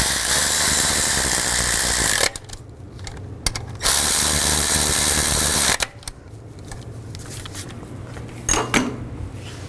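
A ratchet clicks rapidly and loudly in two long close bursts, tightening screws on a valve cover bracket of a 2005-2015 Nissan Xterra, with quieter handling clatter between and after.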